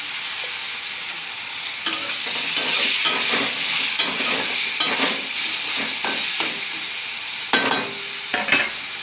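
Eggplant pieces dropped into hot oil with nigella seeds and chili, setting off a steady crackling sizzle broken by repeated spatula scrapes and clatters, close and fairly loud throughout.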